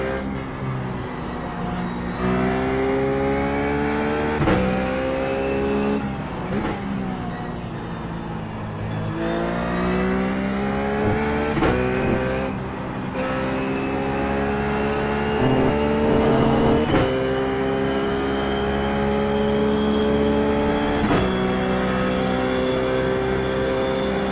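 Ruf GT3 race car in the iRacing video game at Spa Francorchamps, its engine loud and continuous, rising through the gears with sharp upshifts and dipping on braking over a long run, with no talk.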